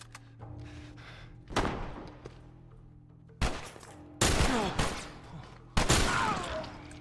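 Rifle shots fired in The Last of Us on PS4, four or five sharp loud cracks at uneven intervals, each with a short decaying tail over a quiet game backdrop.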